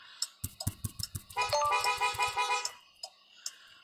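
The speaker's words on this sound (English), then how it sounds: "I shouldn't have honked at him." Car horn honking in the Dr. Driving mobile driving game, a run of short toots followed by one long sustained blast, loud and close, then a few more brief beeps.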